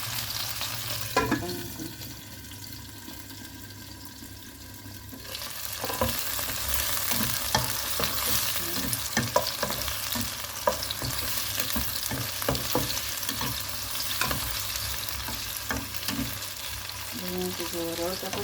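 Taiwanese short sausages fry in plenty of hot oil, a steady dense sizzle and crackle running throughout with occasional stirring clatter, loud and close; no talking.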